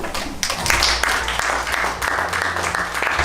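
Audience applause rises to welcome Bentley chairman Adrian Hallmark onto the stage at the Bentley Cube flagship showroom grand opening, a dense, steady clapping from a sizable crowd lasting a few seconds.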